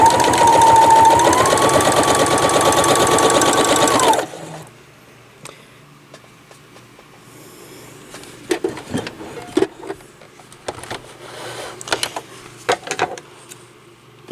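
A sewing machine runs steadily while chain piecing quilt squares, a loud continuous whirring motor hum lasting about four seconds, then stopping and leaving quiet handling clicks and rustles.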